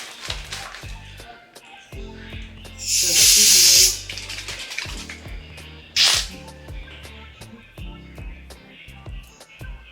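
Hair mousse hisses out of an aerosol can in a couple of short, loud spray bursts, set among soft handling noises and clicks.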